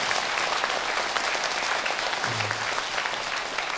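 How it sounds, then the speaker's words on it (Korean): Buddhist temple congregation at a Sunday dharma service clapping on request, a steady, dense burst of applause from a sizable crowd, with a faint low hum briefly underneath. "추사 선생 건강하시라고 박수 한번 부탁해요."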